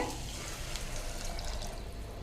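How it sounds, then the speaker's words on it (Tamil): Quiet, continuous splashing rush of water pouring into a pot of soaked rice, steady with no pauses. "ஒரு டம்ளர் அரிசிக்கு ஒன்றரை டம்ளர் தண்ணி சேர்த்திக்கலாங்க"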